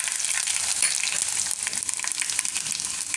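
Garlic hits hot oil with mustard seeds and cumin, giving a loud, continuous close-up sizzle full of fine crackles and pops throughout.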